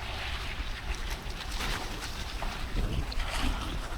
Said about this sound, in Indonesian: Makin kencang anginnya bertiup karena memang musim barat ini